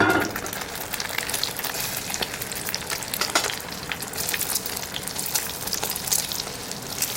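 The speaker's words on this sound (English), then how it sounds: "they wanted those eggs to puff up in that oil" Eggs frying and puffing up in plenty of oil for Chinese tomatoes and eggs at a camp cooking setup, a steady dense sizzle with crackling pops and stirring, close and continuous without talk.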